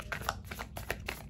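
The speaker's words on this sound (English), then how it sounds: "I'm just shuffling a little bit more" A new, stiff tarot deck is shuffled by hand in quick, faint riffling bursts, a handful of crisp card flutters and taps in a quiet room with no talking.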